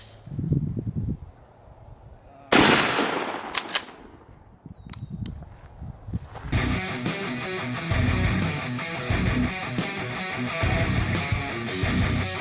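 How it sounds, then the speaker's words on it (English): A 12 gauge shotgun slug fired at a concrete block: one loud, sharp blast with a brief crack and decay, following quieter outdoor rustling, then a sustained broadband roar and rattle of debris and noise that continues to the end. "And now the 12 gauge slug."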